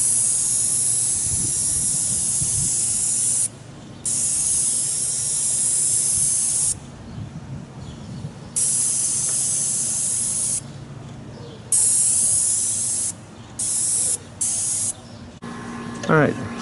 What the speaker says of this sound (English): then we'll take a sprayer and shield, and we'll finish it with a sprayer